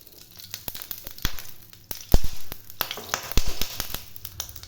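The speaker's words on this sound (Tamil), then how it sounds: "மிளகாய் ஒரு ஏழு சேர்த்து நல்லா வறுத்து எடுத்துக்கலாம்" Dry red chillies frying in a little oil for peanut chutney, giving soft, scattered crackles and light pops with a faint sizzle, close up and fairly quiet.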